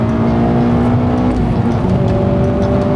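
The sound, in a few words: Mazda 3 MPS engine revving after downshifting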